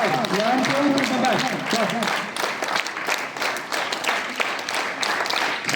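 Schoolchildren clap their hands together on command at a school assembly, a dense run of crowd clapping that starts under a few spoken words and carries on to the end.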